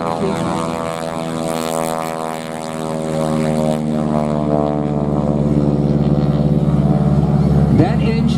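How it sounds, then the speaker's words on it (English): A radial-engine propeller airplane at an air show drones loudly and steadily close by, its deep throbbing roar holding strong for the whole stretch and swelling slightly near the end. "That engine is a radial engine."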